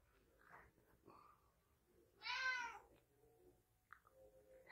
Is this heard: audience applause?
no